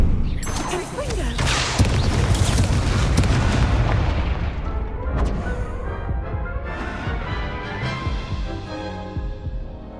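A Confringo fire spell explodes in the Hogwarts Legacy video game with a loud, close, deep blast and rumbling booms, then a long decaying crackle and rumble that gradually fades.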